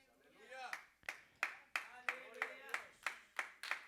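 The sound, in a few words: congregation clapping hands in church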